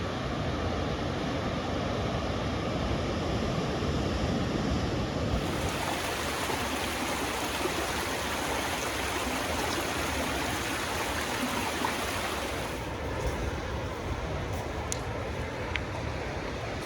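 Ocean surf along the remote Lost Coast backpacking route, a steady broadband wash of waves breaking with continuous rushing texture throughout, fairly close and even in level, with no talk.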